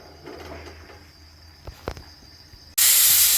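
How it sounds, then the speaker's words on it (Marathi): A pressure cooker cooking mutton bursts into a loud, sustained steam whistle, a sudden harsh hiss after a few quiet clicks and rattles from the cooker beforehand. "आता आपली एक शिट्टी झालेली आहे"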